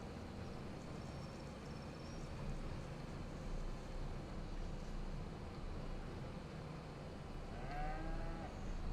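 Cattle low with long, deep moos in the farming game Farming Simulator 25 on a cattle ranch, heard steadily over a windy, rumbling outdoor ambience.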